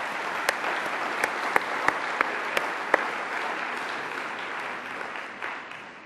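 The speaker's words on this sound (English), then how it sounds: "Please thank them for their outstanding work with a round of applause." A round of applause from a conference audience honoring cystic fibrosis care center teams, steady dense clapping with a few sharp louder claps standing out, gradually fading toward the end.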